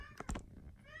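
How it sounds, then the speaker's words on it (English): A house cat gives a short, complaining meow over a quiet room, close and faint. "that's my cat complaining about his food today"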